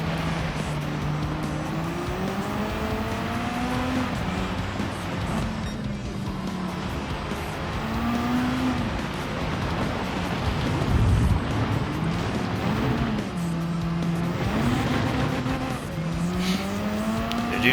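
Rally car in Gran Turismo 7 on a dirt stage, engine note rising and falling through gear changes with tire noise under it. It runs steadily and fairly loud throughout, with no speech.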